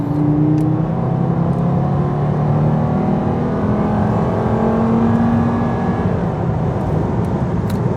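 Volvo S80 five-cylinder engine pulling hard up to 60 mph, a steady loud drone with rising pitch heard from inside the car, no talking.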